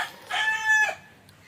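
A single rooster crow rings out close by, a bright drawn-out call lasting under a second before quieting.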